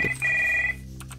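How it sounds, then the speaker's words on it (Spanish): A telephone rings in the video game Stories Untold: one bright, electronic-sounding ring burst lasting about half a second, followed by a brief fading tail, with no talk over it. "ahora empieza a sonar el teléfono de pronto"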